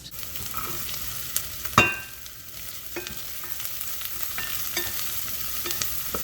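Diced carrot and chopped celery fry in a soup pot for broccoli potato cheese soup, giving a continuous moderate sizzle with a sharp clatter of vegetables hitting the pan and a few soft stirring scrapes.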